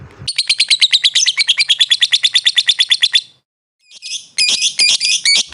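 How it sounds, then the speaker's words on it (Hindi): Loud, rapid chattering chirps from lovebirds, a fast repeated series of shrill calls, a brief pause, then another burst of sharp squawky tweets. "कुछ 4-5 सेकंड आप सुने लव बर्ड की आवाज़ होती"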